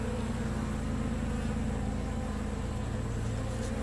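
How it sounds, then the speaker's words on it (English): A tiny swarm of a couple hundred honey bees, some carrying pollen, hums in a steady, continuous drone close by, with a faint low rumble underneath and no voices. "There's probably a couple hundred bees in there."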